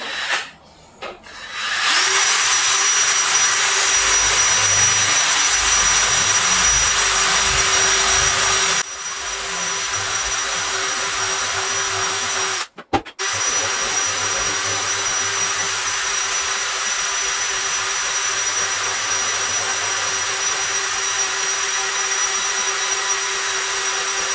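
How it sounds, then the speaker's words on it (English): A power drill with a sanding attachment whirs steadily at close range while sanding rust, loud and continuous, briefly stopping twice before starting up again. "Take my drill."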